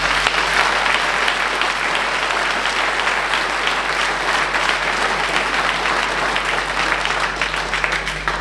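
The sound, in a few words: applause for the municipal staff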